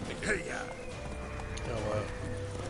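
Horse hooves clip-clopping at a run in a video game set around Velen, steady and close, heard under continuous talking.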